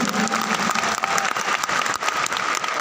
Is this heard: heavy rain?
no